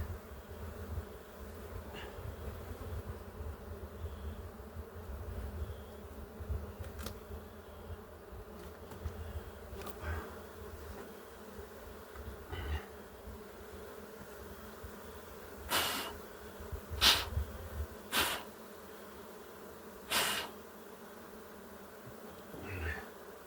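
A honey bee swarm buzzing around a wooden box hive: a continuous dense drone with close bees passing the microphone, several louder buzzes in the second half, and no talking.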